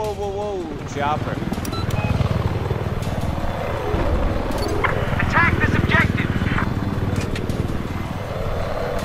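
A helicopter in the Battlefield 4 video game, on the Gulf of Oman map, thumps steadily with rotor chop, loud and sustained, amid game effects and some voices.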